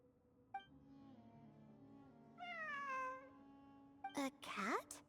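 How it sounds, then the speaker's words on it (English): A cat meows several times, a short call followed by a longer drawn-out meow and then a few quick high cries near the end, fairly close and clear over a quiet background. "It really is a cat."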